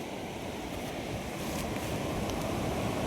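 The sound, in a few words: waves on the beach of the Arabian Sea, Varkala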